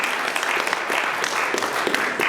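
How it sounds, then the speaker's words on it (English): An audience at a talk gives a warm, sustained round of applause, a dense even clatter of many hands filling the room without pause. "Let's give her a big round of applause"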